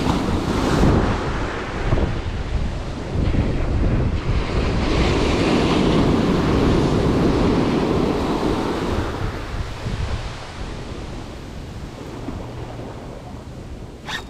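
Wind blowing steadily on a California beach during surf fishing, a loud continuous rushing buffet over the wash of surf, easing somewhat toward the end, with no voices.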